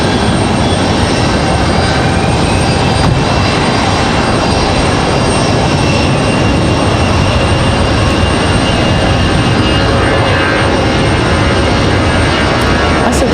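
An Airbus A319 airliner at Raleigh-Durham International Airport gives a loud, steady jet roar that holds unbroken for the whole stretch, with no voices over it.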